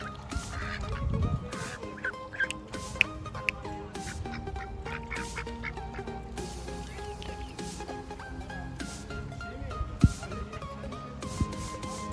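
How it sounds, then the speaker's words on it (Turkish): A flock of geese and ducks honking and quacking continuously, many birds calling over one another at moderate distance. "Evet kazlar ve ördekler."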